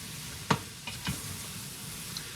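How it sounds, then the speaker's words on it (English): Sliced mushrooms sauté in butter in a pan, giving a soft steady sizzle while a utensil stirs with a few quiet scrapes and taps close by. "I'm going to add those to the butter, and I'm going to saute these for 8 to 10 minutes. Let me stir them first."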